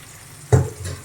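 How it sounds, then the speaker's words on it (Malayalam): Fish hits hot oil in a frying pan in a home kitchen, giving a sudden loud sizzle burst that then settles into a softer, lingering crackle. "നമ്മുടെ മീൻ പൊരിക്കാനായിട്ട് ഞാൻ വെച്ച് കഴിഞ്ഞു"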